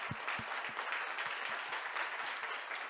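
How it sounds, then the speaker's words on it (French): Audience applause for speaker Eric Cassar at a smart-city talk, a steady wash of clapping from a crowd with no voices over it, filling the whole moment at moderate loudness. "on applaudit Éric Cassi"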